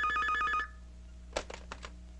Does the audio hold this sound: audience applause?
no